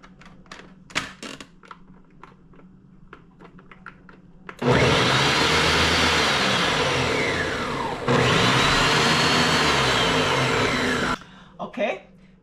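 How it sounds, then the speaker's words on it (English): A blender whirs loudly through a pineapple and coconut popsicle mixture in two long continuous runs separated by a brief break, preceded by tapping and handling clicks and a short spoken remark. "So let's go ahead and blend this up."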